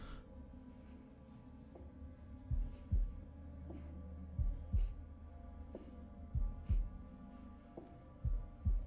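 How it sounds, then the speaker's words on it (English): Heartbeat in The Devil in Me video game, a slow, regular double thump repeating about once a second over a low hum, quiet and without voices. "Press A in time with a heartbeat."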